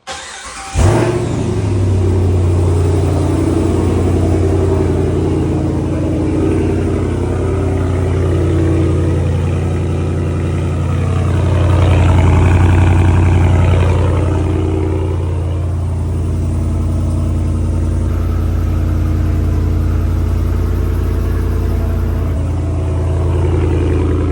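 A 2022 Ram 2500 pickup with 42,517 miles starts up and idles with a deep, steady exhaust rumble, swelling briefly as it is revved mid-clip, loud and close with no talk.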